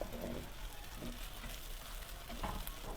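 Chopped tomatoes fry in a pan for anday ka khagina, giving a continuous dense sizzle with faint stirring scrapes, steady and close throughout.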